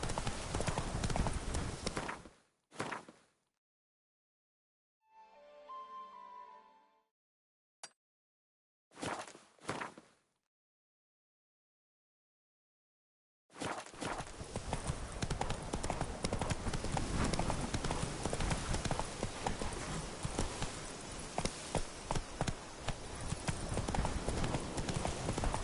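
Horse hooves clip-clop during riding in The Witcher 3: Blood and Wine, starting with short separate bursts and gaps of silence, then turning into a loud, continuous, rapid gallop that runs to the end.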